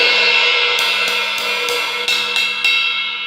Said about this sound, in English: Good crash sound.